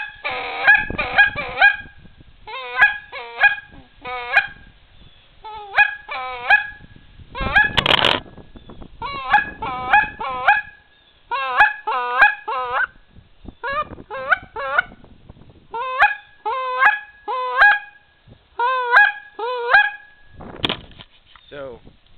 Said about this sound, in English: Got my Super Mag goose call.